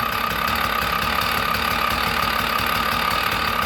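A small Sachs two-stroke bicycle engine idles steadily nearby with a fast, buzzing, slightly knocking rhythm and rattling piston rings, with no breaks.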